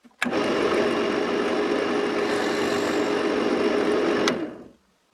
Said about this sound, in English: Now I am going to drill the base of the box.